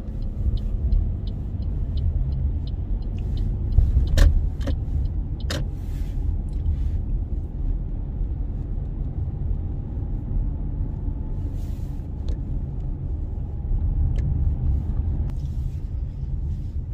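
A car drives in rush hour traffic on the A5 in London, giving a steady low engine and road rumble with a few sharp clicks and ticks from the cabin. No one speaks.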